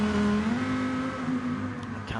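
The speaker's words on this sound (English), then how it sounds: "Still drifting that Lamborghini." A Lamborghini GT3 race car drifting in a racing video game at Spa-Francorchamps: a sustained, buzzing engine note holding steady and slightly rising, with a brief tyre scrub near the end.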